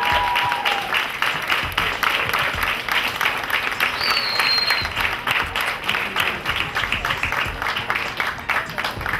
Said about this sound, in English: Round of applause, y'all. Give it up,